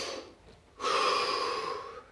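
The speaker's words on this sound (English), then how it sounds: "Drop your hands, deep breath." A single deep breath during a relaxation exercise: a soft exhale, a pause, then a long, strong inhalation heard up close, with no talking.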